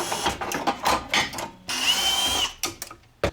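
Power drill running in short bursts, whirring on and off with a longer sustained spin in the middle, close and fairly loud, alone without talk.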